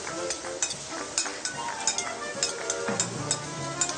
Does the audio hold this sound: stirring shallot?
yes